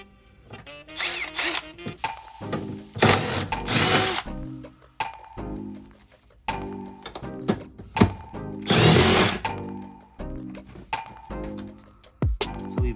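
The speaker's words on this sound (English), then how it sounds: "We backed out both bolts for 14 millimeters" A power tool backs out 14 mm bolts inside a car interior during a DC5 Integra Type R interior conversion, with several close, loud whirring bursts separated by pauses and small clicks.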